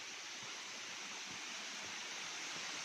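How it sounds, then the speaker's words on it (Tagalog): Balete Falls waterfall rushes as a steady, faint hiss of falling water heard from some distance, unchanging and without voices. "Napakaganda ng Balete Falls."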